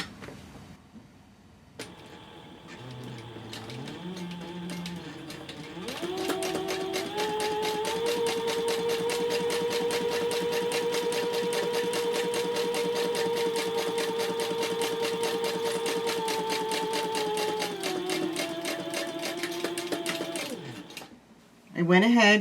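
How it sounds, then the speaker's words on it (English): A Sailrite Fabricator sewing machine top-stitches cork fabric at a long stitch length, rising from a few slow starts into a sustained, close motor hum with a quick rhythmic needle beat before winding down. "Now I'm just going to fold back the cork because I want to do some top stitching"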